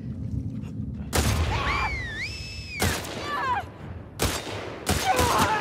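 Short bursts of rapid gunfire crack out several times in The Last of Us Part II, separated by pauses, with whooshing and warbling effect sounds between the volleys.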